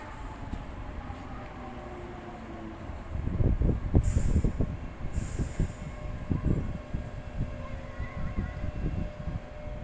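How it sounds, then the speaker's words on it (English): A Sheffield Supertram rumbles past up close in the city centre, its wheels clattering over the rails with rhythmic thumps and a brief high squeal, over steady street background. "Tram 112 now."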